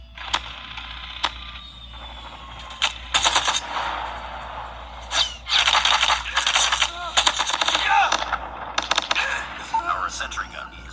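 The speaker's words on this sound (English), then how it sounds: "Sentry gun deployed." A deployed sentry gun fires in Call of Duty Mobile on a Tecno Pova 7 5G phone, sharp rapid bursts of automatic gunfire in clusters amid game sound effects and announcer voice lines.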